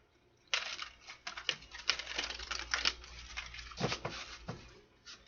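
Close, crisp riffling of playing cards being shuffled, a rapid flurry of flicks and patters repeated in quick bursts.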